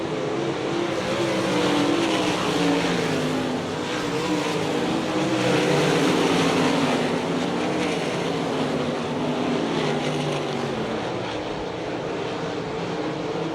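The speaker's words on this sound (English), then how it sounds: "a bunch of cars racing for 5th, 6th, 7th, and 8th" World of Outlaws sprint cars racing in a pack at Hartford, Ohio in 2002, a loud, continuous roar of several engines blending together, swelling slightly as the cars pass.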